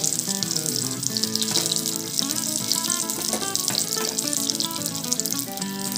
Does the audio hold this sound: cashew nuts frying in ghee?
yes